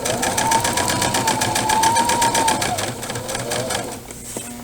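A sewing machine stitches fabric for a pillowcase with a rapid, steady mechanical whir that carries a rising and falling motor tone, slowing as the machine nears the end of the seam.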